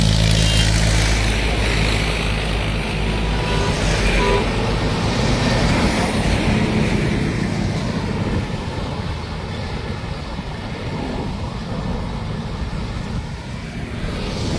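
Steady road traffic roars nearby, with vehicles rumbling continuously over speed breakers and a faint horn toot in the background.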